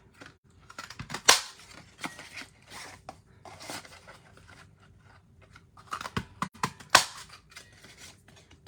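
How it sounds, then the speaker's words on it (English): A handheld paper punch cutting cherry shapes from cardstock, producing loud crisp snaps and clacks, several sharp punches with rustling and handling of paper in between, close and alone without speech. "let me get my punch, and we're just going to cut out 3 of the cherries"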